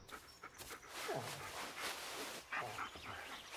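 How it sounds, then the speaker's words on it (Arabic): A dog panting and softly whimpering in the horror video game Blair Witch, a few faint breathy pants and a short whine over a noisy ambient background. "وين هذا كلب"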